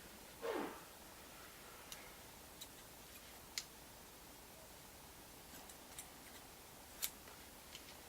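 Scissors snipping hair during a pompadour haircut, a few faint sharp clicks spaced irregularly over steady quiet background hiss, with one soft rustle near the start.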